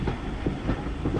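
A heritage steam railway train trundles along the line at Embsay and Bolton Abbey, a steady rumble with faint rhythmic clickety-clack of wheels, heard from inside the carriage.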